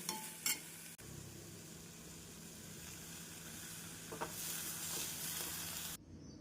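Chow chow kootu with grated coconut stirred in a hot pan, giving a steady soft sizzle with a few quiet scraping touches of the spoon, fairly faint and continuous.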